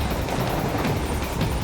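Steady rumbling rush of a moving train in the Metal Gear Rising: Revengeance video game, a continuous loud clatter with no break and no voices.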